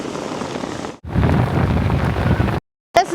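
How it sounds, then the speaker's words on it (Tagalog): Strong wind buffets the microphone outdoors in a loud, steady roar with broadband rumble, broken by a brief gap of silence before a short final gust. "Mahangin talaga."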